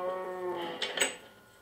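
Minecraft cows moo in a pasture, one drawn-out low moo, fairly quiet and with no talk over it.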